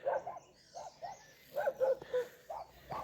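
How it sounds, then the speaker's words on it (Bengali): Dogs bark repeatedly at dawn in the hills of Lalikharka in eastern Nepal, overlooking Phidim town; paired barks come from a distance, faint and echoing in an uneven rhythm. "পাহাড়ে কুকুরের ডাক"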